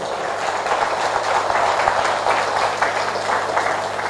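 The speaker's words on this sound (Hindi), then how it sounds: "उनके लिए एक हाथ ताली हो जाए।" An audience at a DXN business opportunity meeting gives dense, continuous applause, a steady wash of many hands clapping at even loudness.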